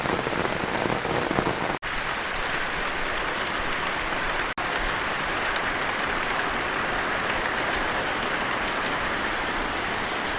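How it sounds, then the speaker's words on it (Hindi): Heavy rain pours steadily in the hills near Chitrakoot, a dense, loud hiss of drops on surfaces that continues unbroken apart from two brief dropouts, with no voices. "कितना तेज़ बारिश हो रही है,"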